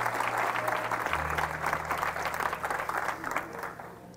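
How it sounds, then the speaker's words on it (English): A church congregation applauds at a 50th-anniversary ministry celebration, with dense, sustained clapping across a large room that holds steady and begins to thin toward the end, accompanied by a low organ-like hum underneath. "let's give them one more round of applause."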